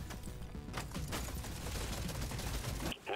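Rapid automatic gunfire from the video game Deep Rock Galactic Survivor, a dense continuous stream of shots with no break until a short pause near the end.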